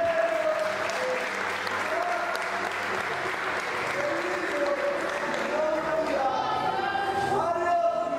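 Congregation applauding in church, steady crowd clapping throughout, mixed with voices and a sustained tonal background that rises near the end.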